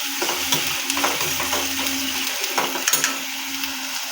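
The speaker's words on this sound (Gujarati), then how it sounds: "અમે નાખશું કાંદાની પ્યોરી કાંદાની પ્યોરીને થોડીક વાર પાતળવા દઈશ" Onion puree frying in a pan, a steady bright sizzle with occasional stirring scrapes and clicks running throughout, close and continuous with no talking.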